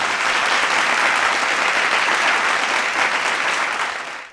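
Big, dense applause from a seated audience at a Women's Day debate show in Madurai, a continuous wash of many hands clapping at full level that tapers off in the final moment, with no voices on top.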